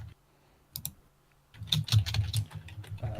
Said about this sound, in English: Somebody has a loud keyboard, though.